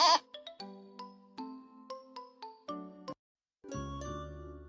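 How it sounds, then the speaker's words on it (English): Short jingling chime notes from a Stanley: Spring Fever children's video game run in a bouncy sequence, followed after a brief pause by a single bleat from a cartoon goat. "That's the goat."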